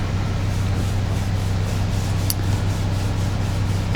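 Wood stain is rubbed by hand onto a jewelry box, a steady close soft rubbing and wiping texture running without pause, with one brief light click partway through.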